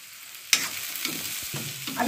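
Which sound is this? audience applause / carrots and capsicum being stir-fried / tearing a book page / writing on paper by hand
carrots and capsicum being stir-fried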